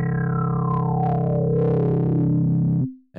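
A buzzy synth tone from Ableton's Operator through an Elektron Analog Heat, distorted with a resonant filter sweeping downward, harmonics gliding as it growls, then cutting off abruptly near the end.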